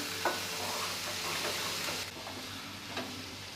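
Finely chopped vegetable sautéed with spices in a pan, a soft continuous sizzle with a few light stirring scrapes, fairly quiet and close, no talking.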